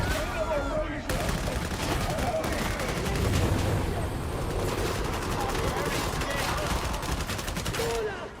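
Dense gunfire in Warhammer 40,000: Darktide, a continuous rattling fusillade of rapid shots over the whole stretch, loud and close, with voices speaking over it.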